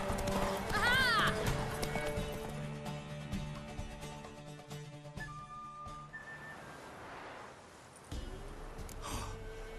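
A horse in The Witcher 3 video game, heard as hoofbeats with a whinny and snorts early on, blended with game music and ambience before the sound settles into quieter background tones.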